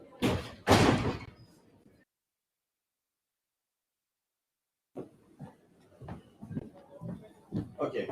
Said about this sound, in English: I'm going to close the door also